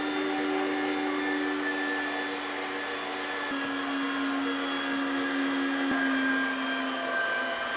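A KitchenAid or WonderMix stand mixer kneads white-flour bread dough on a counter, giving a loud, steady motor whine with a low hum that shifts pitch partway through and runs without a break.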